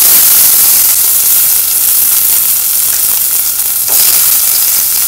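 Onion sizzles in a hot garlic tadka for red lentil masoor dal, giving a loud, steady frying hiss that continues unbroken for several seconds, with a brief dip before it surges again.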